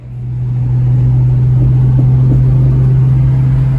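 Right-hand-drive Toyota Supra pulling away, a loud close engine drone that swells in the first second and then holds a steady low rumble, with no talking.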